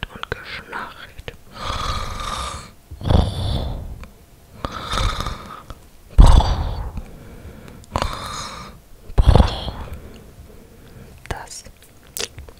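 A whispering voice imitates snoring in a quiet indoor setting, with about five drawn-out, raspy snores in a slow, steady rhythm, close to the microphone.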